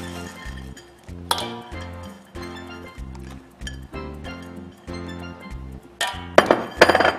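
Beef suet is stirred and tossed into flour in a bowl for Jamaican beef patty crust, giving repeated light clinks and scrapes of a utensil against the bowl over soft background music, with sharper clatters near the end.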